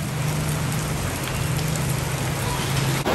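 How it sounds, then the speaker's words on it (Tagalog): Heavy rain pours steadily, a dense, loud wash of drops drumming on surfaces with a low rumble underneath, unbroken for the whole stretch. "Grabe, lakas ng ulan."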